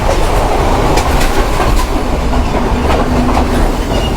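A moving train in Sri Lanka, near Kandy, rumbles loudly with rhythmic clacking of wheels over rail joints, heard close from inside a carriage, continuous throughout.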